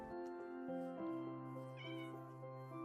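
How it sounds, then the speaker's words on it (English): A cat meows several times in a row in Minecraft, clear tonal mews with a game-like clean quality, close and alone with no talking. "I met a couple of cats while I was out exploring"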